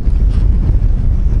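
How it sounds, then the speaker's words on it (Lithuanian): Strong wind buffeting the microphone outdoors on a fishing trip, a loud, continuous low roar with gusty fluctuations and no talk. "toks vėjas baisus"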